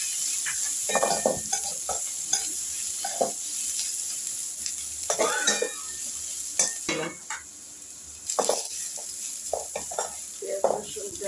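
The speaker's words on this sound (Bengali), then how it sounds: "পেঁয়াজ রসুনটা একটু ভাজা ভাজা হয়েছে" Onion and garlic fry and get stirred in a pan for a Bengali pui shak chhanchra with fish head, steady sizzling with scraping spatula strokes and clinks of the pan, fairly close.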